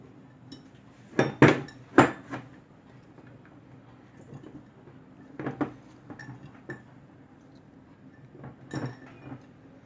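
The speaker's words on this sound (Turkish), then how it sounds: "Şöyle fasulyeyi gelişi güzel öylesine kavanozumuza dolduralım." Green beans are packed by hand into a glass jar over garlic cloves for pickling, giving scattered clinks and knocks of glass, some sharp and close, separated by quieter stretches.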